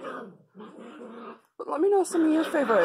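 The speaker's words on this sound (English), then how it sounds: "That's the dog and the cat." A dog whimpering and growling indoors, close whiny yelps and strained moans following a woman's brief speech.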